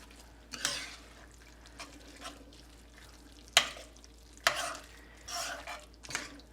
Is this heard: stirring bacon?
yes